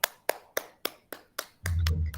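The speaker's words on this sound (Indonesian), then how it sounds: "kita beri aplaus untuk kelompok blue." Classroom applause for a presenting student group: a few crisp, evenly spaced claps from one person, then a short burst of fuller clapping from several hands, close and fairly quiet.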